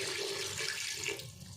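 Water is poured from a glass into a pressure cooker holding bong paya trotters: a steady, fairly loud rushing splash that fills the whole moment and eases off slightly at the end.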